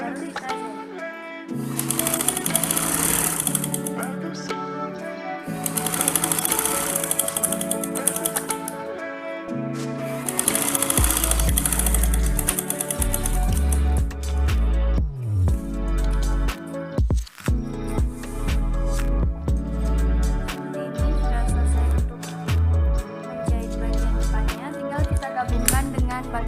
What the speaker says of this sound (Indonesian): kita jahit dari bagian tanda ini sampai atas